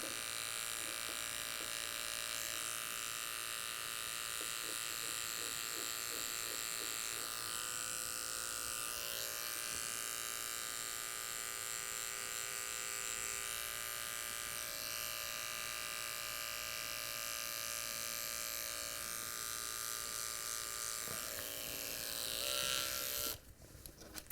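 A detachable blade hair clipper hums steadily while cutting hair in a skin fade, a faint continuous electric buzz that runs unbroken and stops abruptly at the end.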